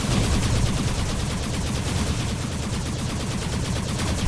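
Defense turrets firing in the Arc Savior video game, a dense continuous rattle of rapid gunfire that stays loud and steady throughout with no pauses.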